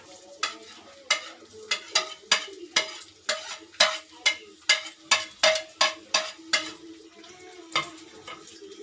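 Onion, green chillies, bay leaves and whole garam masala frying in oil in a pan, heard as a rhythmic series of about fifteen sharp stirring scrapes and clatters over a low sizzle, close and distinct, no voices.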